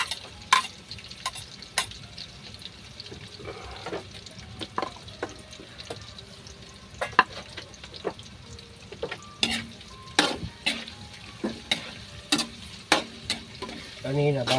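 Ginger fries in a pan for papaitan with a constant soft sizzle, punctuated by frequent sharp clacks and scrapes of a utensil stirring against the pan in an irregular rhythm.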